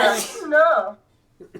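A single sneeze bursts out at the start of a live Dungeons and Dragons one-shot session, loud and close, followed by brief talk and a couple of soft noises.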